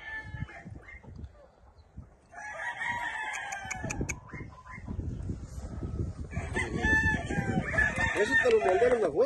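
Roosters crow repeatedly at a gamecock farm in Modesto, California, with hens clucking nearby; several loud crows overlap and rise toward the end, with faint talk in the background.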